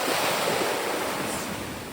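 Ocean surf rolls in at Rasthakadu beach in Kanyakumari, a continuous broad wash of breaking waves with some wind buffeting the microphone, close and fairly loud with no voices.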